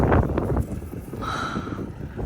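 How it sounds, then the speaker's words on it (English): Strong wind storm outside, blowing as a loud, continuous rushing roar that buffets the microphone with uneven gusts. "So it's pretty windy outside, as you can tell."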